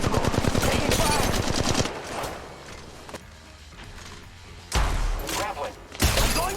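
Rapid automatic gunfire from the mobile battle royale Apex Legends Mobile, loud close bursts that break off into quieter game noise and then return in fresh volleys.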